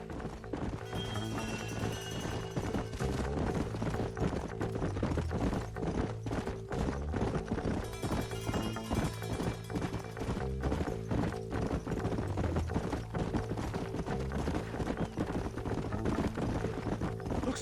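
Horse hooves clip-clop steadily through a gameplay scene in Red Dead Redemption, the rhythmic footfalls sitting under a continuous bed of music and ambience for the whole stretch.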